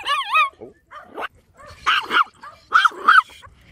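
A small Chihuahua at a dog park yaps and whines in quick, high-pitched bursts, close and fairly loud, with short pauses between the yips.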